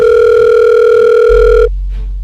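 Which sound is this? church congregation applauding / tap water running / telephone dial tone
telephone dial tone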